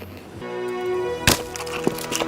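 A monkey bashes a hard shellfish shell against wood: two sharp cracking knocks land about half a second apart, with a few lighter taps after them, over a faint tonal background.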